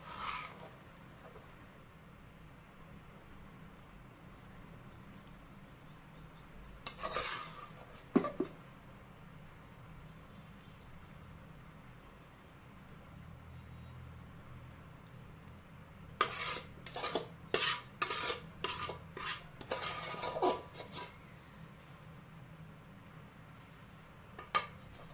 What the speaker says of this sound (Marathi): काचेच्या भांड्यात काढून घेत आहे.